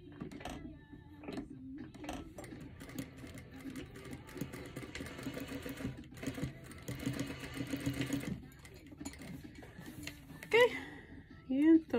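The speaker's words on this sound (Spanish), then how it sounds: "voy a dar una costura como en forma de triangulito" A sewing machine stitches a small triangle-shaped seam on a shirt sleeve, running steadily and mechanically under quiet background talk, with a couple of louder clicks near the end.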